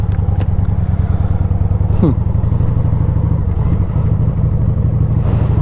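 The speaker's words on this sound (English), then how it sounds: "Might be a scooter." A small motor engine buzzes steadily nearby, droning continuously with a faint rising whine partway through.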